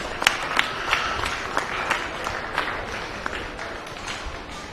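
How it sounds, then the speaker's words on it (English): Audience applause for exhibitors at the Cherokee County Fair swine show, a loose patter of many hands with sharp individual claps standing out early, fading gradually over several seconds. "Let's give all these exhibitors a round of applause"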